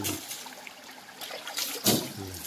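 River water trickling and splashing while a jeep is washed at the Punong river in Marinduque, a steady close wash with a louder splash burst near the end and faint voices in the background.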